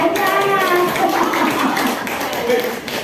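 Group of teachers and staff at an elementary school clapping a 'tepuk dua tiga' pattern, brisk rhythmic claps blended with shouted chanting voices.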